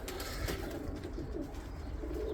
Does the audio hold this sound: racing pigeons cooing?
yes